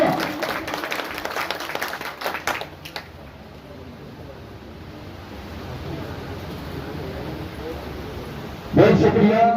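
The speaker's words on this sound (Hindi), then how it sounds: "जोरदार तालियां।" At a Pakistan Peoples Party rally in Dadyal, Azad Kashmir, the crowd gives a burst of dense clapping that fades after a few seconds into quiet murmur, then a loud voice breaks in near the end.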